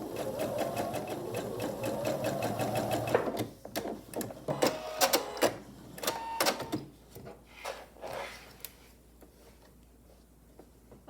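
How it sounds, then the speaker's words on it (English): A sewing machine stitching a vinyl pouch runs in a fast continuous burst of rapid needle clatter, then slows into scattered short runs of stitches and single clicks, close and clear with no talking. "I'll sew right on my drawn line."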